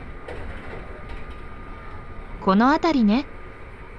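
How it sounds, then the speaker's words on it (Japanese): Kintetsu limited express train running on the Yamada Line toward Kashikojima, heard as a steady, moderate rumble of running noise filling the whole stretch, with a short burst of speech briefly rising over it near the end. "近鉄特急は終点賢島を目指し山田線を走っています。"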